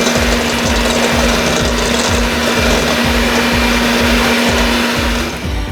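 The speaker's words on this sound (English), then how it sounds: "best thing you can use is a hand blender." A hand blender whirs steadily and loudly with a rhythmic pulsing churn as it mixes, running continuously until it winds down at the end.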